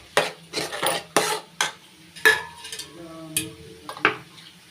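A spoon stirs tangy yogurt-based gravy with squeezed lemon in a metal pot, in a series of sharp scraping clinks and knocks against the sides, spaced irregularly with short pauses.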